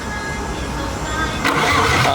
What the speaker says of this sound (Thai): วันนี้เครื่องฮีโน่ EM ร้อยครับ สตาร์ทให้ดูพร้อมส่งครับผม